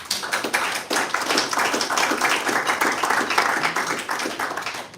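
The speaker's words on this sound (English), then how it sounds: "Please join me in a round of applause for our new and returning volunteer leadership." An audience at an Orange County board meeting claps for new and returning volunteer leaders, a dense, steady round of applause close by for about five seconds.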